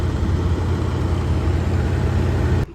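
A 9320 tractor pulling a manure spreader runs with a steady, deep engine drone, loud and continuous at close range, cutting off abruptly at the end with no talk over it.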